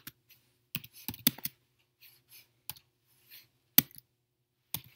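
Someone types a command on a computer keyboard, with a quick burst of key clicks followed by scattered single taps and short pauses, close and crisp in an otherwise quiet room, and no one talking.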